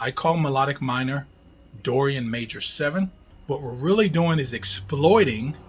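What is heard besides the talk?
None of the usual background noises is heard.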